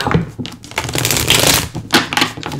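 Tarot cards are shuffled close by, bursts of crisp riffling and flicking paper sounds that come in uneven spurts with brief pauses, loud and dry, without talking.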